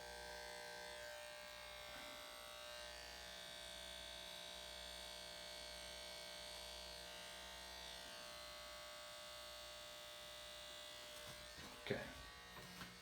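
An electric hair clipper buzzes steadily during a self beard trim, a thin continuous electric hum sitting quietly and close throughout, with a few brief clicks and handling knocks near the end.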